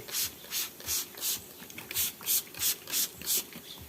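A sprayer works around a bamboo rat enclosure, giving close, regular rasping bursts about three per second, each a short hiss over a faint mechanical rattle, with no speech.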